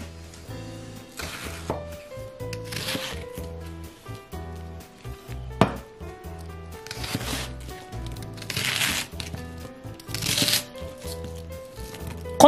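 Onion cut into rough one-centimetre pieces with a knife on a board, a series of crisp separated chops and slices with pauses between them, close and clear over faint background music.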